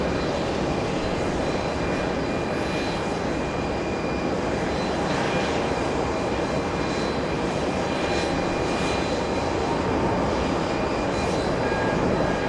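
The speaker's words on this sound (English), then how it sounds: "American 100 heading to London at 777-300 extended range" An American Airlines Boeing 777-300ER departs JFK bound for London, its jet engines producing a loud, steady broadband roar that holds without a break, with no voices over it.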